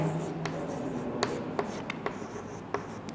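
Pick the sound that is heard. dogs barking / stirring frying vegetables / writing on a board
writing on a board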